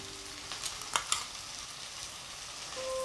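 Onion and garlic paste frying in a pan for chicken roast, a soft steady sizzle with a couple of sharp stirring clicks, fairly quiet and close, no voices.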